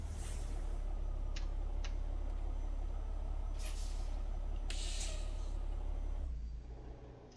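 A truck's parking brake in American Truck Simulator lets out sharp hissing bursts of released air over a steady idling diesel rumble, with a couple of faint ticks before the engine drone fades.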